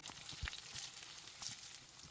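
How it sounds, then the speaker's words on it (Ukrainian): Soft, steady sizzle of chicken legs frying in a covered pan over medium heat, with faint crackles and pops scattered throughout; no voices. "На середньому вогні під закритою кришкою смажимо ще 4-5 хвилин."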